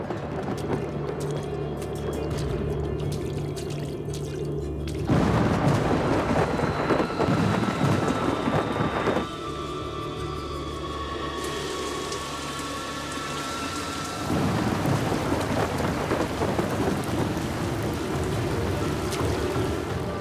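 Heavy rainy-season downpour near a river in Panama roars steadily as a dense hiss, with rumbling thunder swelling and easing in several long waves, and no voices.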